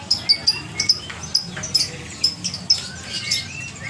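Songbirds at an Indonesian bird market chirp in quick, repeated high bursts, a busy scatter of close and distant calls over a low murmur of crowd noise.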